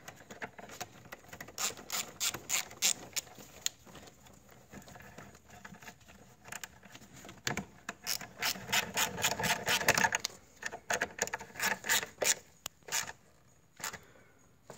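A ratchet wrench snugging the 10 mm bolt on the thermostat housing of a 2004 MINI Cooper S R53, rapid clicking pawl bursts repeated in short runs, close and crisp.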